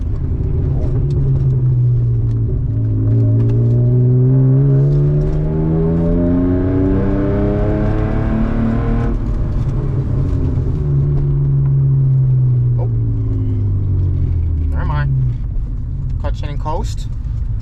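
A loud BMW E36 downshifts and coasts on a highway, its engine note sweeping up and down in long droning pitch slides, then dropping and rising again as the clutch is released, with someone talking over it.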